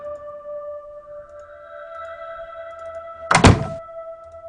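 One loud, heavy thunk as a door latch is pulled back and the door is flung open, breaking through a quiet, humming room on a rainy summer night.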